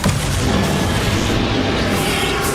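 Summoning spell cast in Hogwarts Legacy's final boss fight, heard as a sustained booming, rumbling burst of magic that stays loud and dense throughout.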